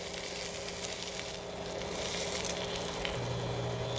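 Thick cabbage slices and pork neck steak fry in a hot pan with a dense, continuous sizzle, close and even throughout with faint crackles.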